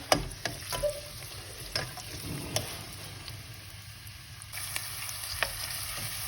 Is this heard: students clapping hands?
no